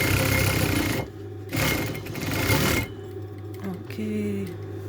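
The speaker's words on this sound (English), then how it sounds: "you have to stitch together with the lining the same" A sewing machine stitches the lining of a Christmas stocking in close, rapid mechanical bursts that start and stop several times.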